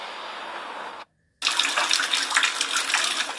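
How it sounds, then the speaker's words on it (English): Water gushes and splashes out of pipes in a building, a loud steady broadband rush that cuts off briefly and then resumes even stronger, with no voices. "Video sent to Fox 5 shows water pouring out of pipes"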